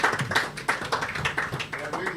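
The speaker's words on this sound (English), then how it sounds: "Let's give a round of applause to the Electoral Commissioner." An audience gives a round of applause for the Electoral Commissioner at an AIPS Africa sports press congress, with steady, fairly loud clapping and tapping throughout and voices mixed in.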